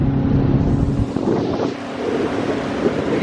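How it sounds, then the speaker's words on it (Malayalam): A speed boat crosses the reservoir of Kakkayam Dam near Calicut, heard as a steady, loud engine drone mixed with rushing water and heavy wind buffeting the microphone, continuous and close throughout, with no one speaking. "ഇത് സ്പീഡ് ബോട്ടല്ലേ? സ്പീഡ് ബോട്ട് പോവാണ്."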